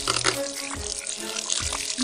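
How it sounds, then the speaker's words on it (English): Water trickles and splashes softly in a steady stream from a hole in a plastic bottle, with faint gurgles, close by and fairly quiet. "Now you can see water coming out from the hole."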